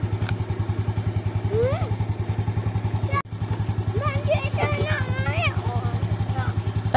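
A motorcycle engine idles steadily nearby with a rapid, even chugging, while people talk over it.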